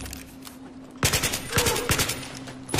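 Rapid automatic gunfire from a Battlefield 3 combat mission, loud, close bursts of repeated shots breaking out after a quieter lead-in, firing in a couple of clustered volleys.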